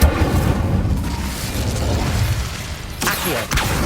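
An Incendio fire spell cast in Hogwarts Legacy, a loud roaring whoosh of flame with a rumbling burst that sustains, then a sharp crackling flare near the end.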